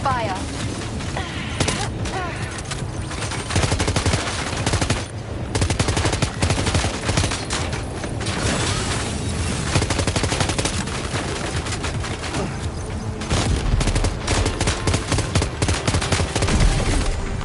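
Gunfire from the video game Death Stranding 2, dense and continuous bursts of shots and rattling automatic fire for the whole stretch, loud and close, with voices talking over it at times.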